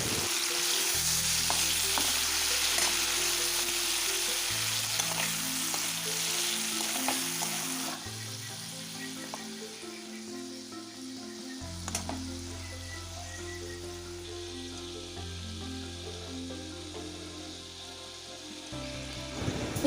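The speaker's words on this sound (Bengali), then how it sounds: "আর এই পাশটাতে আমার চিংড়ি মাছটাকেও আমি ভেজে নিচ্ছি।" Prawns frying in hot oil give a steady, dense sizzle with crackling spits, while a low, stepwise drone runs underneath, loud and close throughout.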